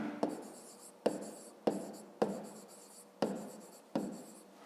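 Pen scratching on paper while a rectangle perimeter solution is written out: six short scribbling strokes in a steady rhythm, close and quiet with no talking.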